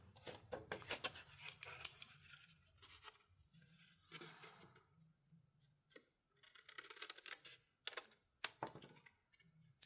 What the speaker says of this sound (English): you're just going to cut this off